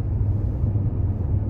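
Low, steady rumble of road traffic on Nufenen Pass in summertime Switzerland, a continuous engine drone heard from nearby with no voices.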